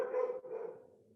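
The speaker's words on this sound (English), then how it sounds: "my dog is barking" A dog gives a single drawn-out, muffled bark that fades away, faint and slightly distant, with no voices over it.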